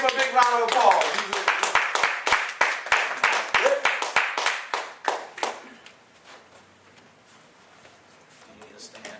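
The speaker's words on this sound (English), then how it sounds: "give him a big round of applause" A small audience claps to welcome a speaker, sharp distinct hand claps at first, then uneven and loud before fading to scattered claps and near silence over the last few seconds.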